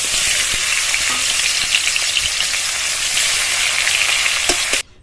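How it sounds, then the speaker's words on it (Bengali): Tilapia fish fries in oil with a loud, constant, close sizzle and a few spatula taps, unbroken until it cuts off suddenly near the end. "বাকি মাছগুলো দিয়ে একইভাবে ভেজে নেব।"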